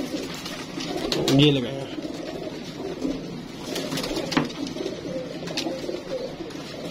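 Pigeons kept by a fancier coo in a loft, one soft rolling coo standing out early, with someone talking over the birds and faint rustling around them.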